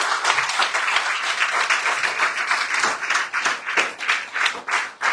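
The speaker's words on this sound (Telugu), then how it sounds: "చప్పట్లు కొట్టు." Congregation in a church service clapping steadily in rhythm, a dense, continuous patter of many hands that swells and dips slightly toward the end.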